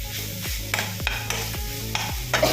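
Tomatoes frying in a pan for a rice-flakes and sago upma, with a steady sizzle and rhythmic spoon strokes scraping the pan about every half second.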